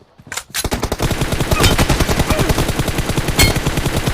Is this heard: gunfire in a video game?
yes